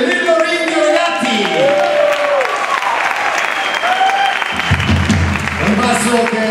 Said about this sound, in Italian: Un grande applauso per favore per il mio grande amico